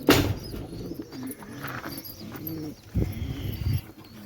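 Pigeons gather on a rooftop before release for a tournament, giving close, soft throaty coos that repeat and overlap, with a sharp rustle or flap at the very start and another burst near the third second.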